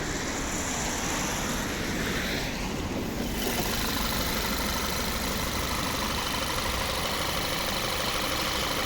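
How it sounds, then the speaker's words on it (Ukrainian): A 2008 Audi A3 1.8 petrol engine with automatic transmission idles steadily up close, a continuous low rumble with a faint hiss that shifts slightly after a few seconds. "І підемо послухаємо, як працює наш двигун."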